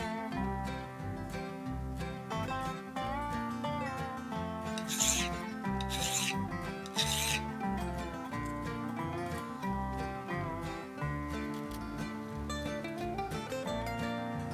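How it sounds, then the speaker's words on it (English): A file rasps back and forth across a model railroad rail to shape a switch point, with close, rhythmic rubbing strokes running steadily throughout. "In addition to filing the angle for the switch point, I'll need to make a notch in the base of this rail"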